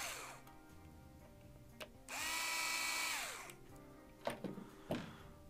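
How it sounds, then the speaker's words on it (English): A power driver backs the motor mount screws out of an Arrma 6S RC car. The motor whirs in one sustained burst of about a second and a half, preceded and followed by close clicks and taps. "You'll want to remove the two motor mount screws on top here for the motor mount first."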